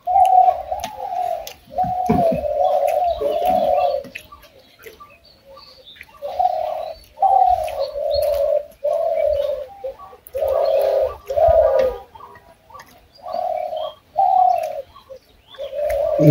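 A dove in a rural village calls in repeated soft cooing phrases, about nine separate bursts with short pauses between, close and clear over quiet surroundings, no talking.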